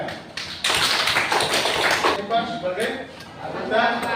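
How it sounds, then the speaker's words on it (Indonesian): A classroom group claps for a fellow group after their presentation, a short burst of scattered hand clapping mixed with chuckles and chatter from students nearby. "Mari kita tepuk tangan"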